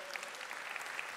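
Audience applause welcomes town officials arriving at an awards ceremony for women, with steady, even clapping from a crowd at moderate distance and no voices over it.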